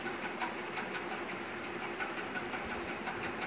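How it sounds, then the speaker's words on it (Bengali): Water poured into a hot pan of pangas fish and cumin paste gives a steady, even hiss with a slight pulsing texture throughout, without any talking. "এবার আমি পরিমাণ মতো জল দিয়ে দেবো।"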